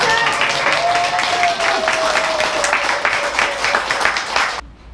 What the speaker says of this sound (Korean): 저희가 박수 한번 드릴게요.